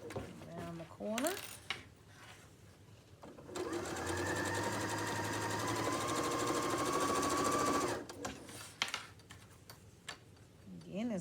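A sewing machine stitches two layers of an apron together in one steady run of about four seconds, rapid and close, with brief handling clicks and light fabric movement before and after.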